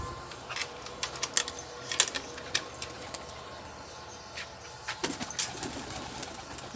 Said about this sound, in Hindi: ये आवारा कबूतर है बाहर बैठा हुआ है